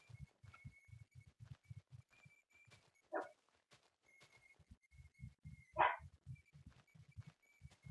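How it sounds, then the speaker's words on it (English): A dog barks twice indoors, two short loud yelps a few seconds apart against a quiet room with low rhythmic thumping in the background; no one speaks. "Sorry, that's my dog."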